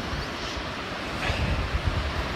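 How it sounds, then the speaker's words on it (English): Wind blows across a Montana hillside on a spring day, a soft broadband rush against the microphone that swells in a gust partway through. "it's just a nice, beautiful, windy day"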